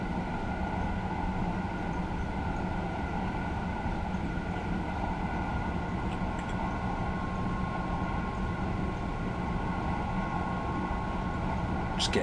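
An SNCF TGV Duplex high-speed train runs between Marseille and Avignon in Train Simulator, giving a steady, even rumble with a constant electric whine throughout, unchanging and fairly quiet, with a faint click at the very end.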